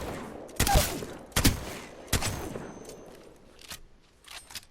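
A bolt-fitted gun in Apex Legends fires about six separate shots, loud sharp cracks spaced roughly a second apart that grow fainter toward the end, with no talking.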